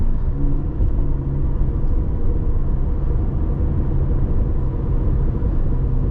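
A 2025 McLaren GTS on the move gives a continuous low engine and road drone heard from inside the cabin, steady and even throughout with no talking.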